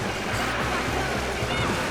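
Water rushes and splashes steadily as a kart drives through water in Mario Kart World, a continuous loud wash with engine hum underneath and a voice talking over it.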